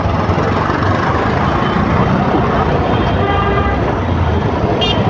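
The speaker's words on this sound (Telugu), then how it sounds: "చూసారు ఎంత పెద్దగా ఉందో బస్సు" A large bus engine drones loudly and steadily under busy road traffic, with a brief horn toot near the end and faint voices in the background.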